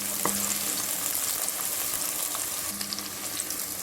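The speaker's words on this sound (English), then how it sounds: "So the onion has fried enough." Onions frying in a pan for kidney bean jollof rice, a steady close sizzle with a brief stirring scrape near the start and again near the end, no voices.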